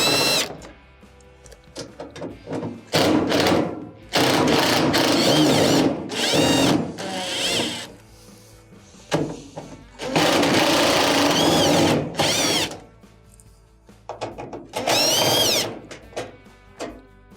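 A power drill backs out the Phillips screws on the front panel of a GE dryer, whirring in several loud bursts of a second or two each, separated by short quiet gaps.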